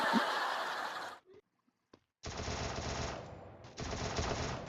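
Bursts of automatic gunfire in the video game Free Fire, one long volley, a short pause with a couple of faint shots, then two more sustained bursts, loud and close.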